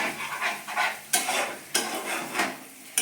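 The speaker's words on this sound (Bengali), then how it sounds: "দেখুন এটাকে আমি নেড়ে নিয়েছি ভালো করে" A spoon scrapes and stirs spice paste for paneer in a pan over a medium gas flame, with a gentle sizzle and several sharp scraping strokes against the metal.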